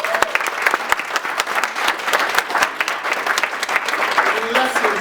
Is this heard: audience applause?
yes